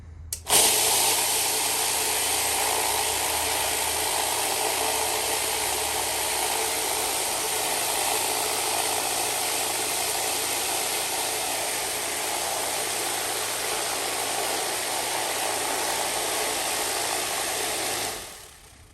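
A rock tumbler loaded with lemon quartz and a tablespoon of aluminum oxide grit, left a little wet, runs with a continuous steady mechanical hum and rumble, close and unbroken, then stops near the end.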